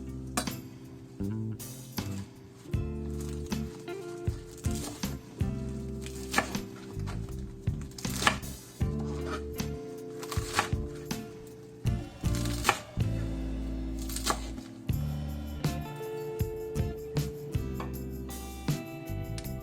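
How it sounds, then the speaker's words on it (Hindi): A knife chops salad leaves on a board in uneven bursts of quick taps with occasional clinks of bowls and utensils, close and clear, while music plays along underneath. "सैलेड के पत्ते काट लेते हैं।"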